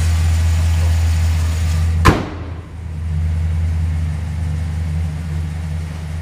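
The 4.8 liter Vortec V8 of a 2010 Chevrolet Silverado idles steadily with a low hum, broken by a sharp thump like a door or hood closing, then continues running close by.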